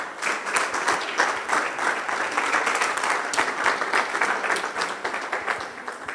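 Congregation applause at a church service, steady dense clapping from a crowd filling the room for about six seconds, loud and continuous without any speech.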